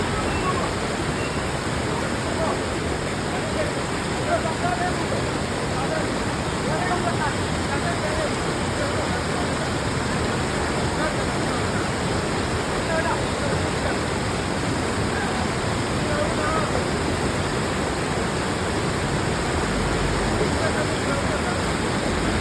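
A swollen mountain stream rushing loudly and steadily, a constant dense roar of water throughout with voices talking faintly beneath it.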